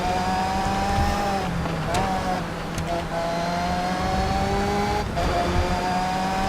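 Formula 3 race car in TOCA Race Driver 3, engine droning steadily with pitch rising through gears and short dips at shifts, loud and close throughout with brief tyre and contact noises.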